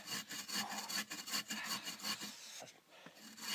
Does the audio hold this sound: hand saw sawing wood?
yes